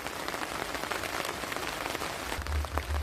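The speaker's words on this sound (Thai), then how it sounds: "ถ่ายบนให้ดูไม่ได้ครับ เพราะว่าฝนตกอยู่ครับ" Steady rain falls through the night at a riverside campsite with tents, a dense, continuous patter of drops on surfaces that holds an even level throughout, with a few slightly heavier bursts near the end.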